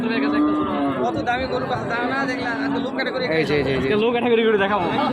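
Bullocks low and moo repeatedly at a cattle market in the Panchbibi border area, loud and close, overlapping with steady crowd chatter and people talking nearby.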